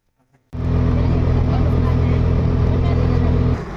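An auto rickshaw starts up and drives through the city, its engine a loud steady drone that begins abruptly after a quiet moment and runs to the end.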